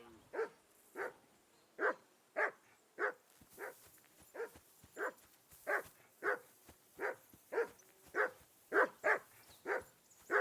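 A dog in the medieval role-playing game Kingdom Come: Deliverance 2 barks repeatedly in a steady, evenly spaced series of about eighteen sharp barks, moderately distant and alone without talk.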